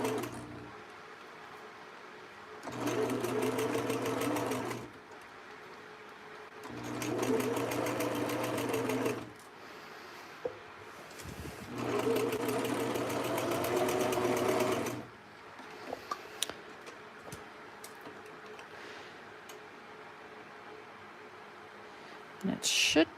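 A sewing machine stitches vintage thread clusters in three steady buzzing runs of a few seconds each, separated by pauses with small handling clicks, while a person talks quietly between runs.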